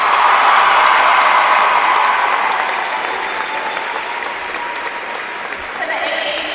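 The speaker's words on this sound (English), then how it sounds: "And that deserves a round of applause." A crowd at a state championship volleyball event in a gym breaks into loud, sustained applause and cheering, a thick roar of clapping and voices that eases slightly before swelling again near the end.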